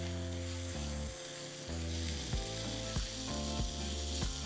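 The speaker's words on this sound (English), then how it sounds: "we're going to add 2 Roma tomatoes. Make sure that they're nice and chopped. And we're going to cook for 1 minute." Chopped Roma tomatoes fry in a pan, a steady close sizzle with occasional stirring knocks, heard under music.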